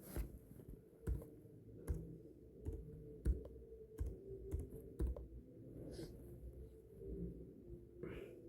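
Java code being typed on a computer keyboard, with irregular bursts of sharp key clicks and a few louder thumps over a low room rumble, close and fairly quiet, with no talking.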